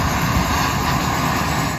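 A turbine aircraft engine runs at steady power, a loud broadband roar with a high whining hiss on top, sustained evenly before easing off at the very end.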